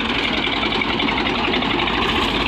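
A tractor stuck in a Pakistani village, its engine running with a steady, loud, rumbling idle and a constant knocking drone throughout, with no talk over it.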